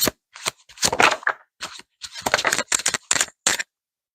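A deck of gold-edged tarot cards shuffled in bursts, crisp riffling and slapping of card stock in short clustered flurries separated by brief pauses, close and clear with no talking.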